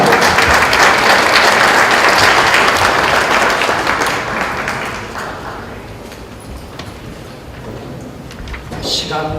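An audience at a mission conference seminar applauds loudly to welcome a lecturer, the dense clapping fading out after about five seconds into quieter room sounds with a few stray claps.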